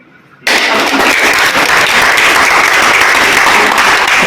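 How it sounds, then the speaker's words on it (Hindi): An audience at a parent-teacher conference at Government Digvijay College in Rajnandgaon, Chhattisgarh bursts into loud, sustained applause after a brief quiet moment, a dense, steady roar of many clapping hands that continues to the end. "अपने लिए ताली बजाएं।"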